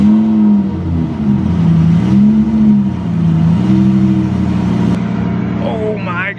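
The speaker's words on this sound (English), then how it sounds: "Cold start 2016 Lamborghini Huracan. Let's see what this sounds like." A 2016 Lamborghini Huracan engine idles loudly and steadily after a cold start, with a deep drone that rises and falls slightly; a voice speaks near the end.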